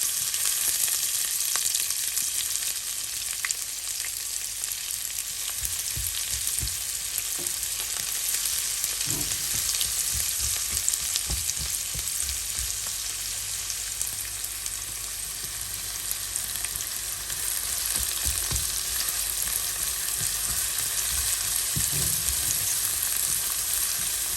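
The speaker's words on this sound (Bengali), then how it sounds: "সেই ফ্রাই প্যানে ওই তেলের মধ্যে দিয়ে দিব একটা পেঁয়াজ কুচি।" Chopped red onion fries in oil in a frying pan with a steady, dense sizzle, close up and constant throughout, broken by occasional soft taps and scrapes of stirring.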